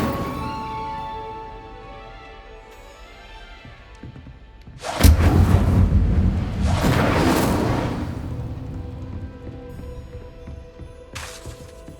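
Incendio fire spell cast in Hogwarts Legacy: after a quiet musical lull, a sudden whooshing burst of flame with a deep thump, roaring for a few seconds and fading, followed by a brief crackling flare near the end.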